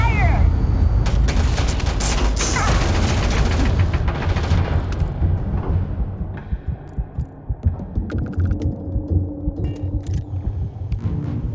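Heavy gunfire in the Starfield space game: dense rapid bursts and booming impacts over a loud rumbling bed, thinning into scattered shots and hums as the barrage fades.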